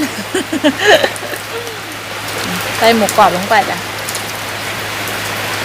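Steady rain falling outdoors, a constant hiss of drops on surfaces that runs beneath a person talking in short bursts.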